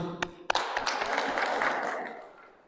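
Church congregation at Gwanggyo 1-dong parish applauding in a reverberant hall: a few sharp early claps swell into a brief, dense round of clapping that fades out, with voices mixed in.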